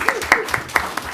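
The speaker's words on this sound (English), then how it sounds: "you can applaud that." A small group at a school board of education meeting gives a brief, sparse round of clapping, individual claps standing out in an uneven rhythm, fairly close and soft.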